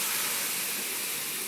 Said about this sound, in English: I'm going to saute that down until the mushrooms soak up all that butter and the olive oil